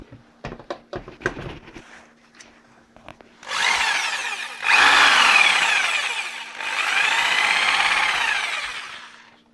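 Bosch GST 8000 E electric jigsaw running free in short bursts: a loud buzzing motor whine that starts, cuts briefly and restarts, following a few sharp handling clicks and taps.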